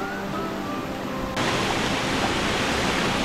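Water rushes through a stone-dammed channel in a Konkan forest, a steady broadband hiss that grows abruptly louder partway through and then stays constant, with no voices.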